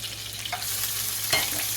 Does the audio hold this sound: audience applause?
no